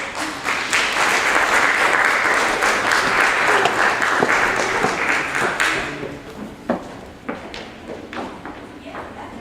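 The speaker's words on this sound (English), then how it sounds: "A big round of applause for Miss Allie." Audience applause at a Rotary Club World Polio Day benefit concert in Port Hawkesbury, a dense, loud burst of clapping that thins out after about six seconds into scattered individual claps.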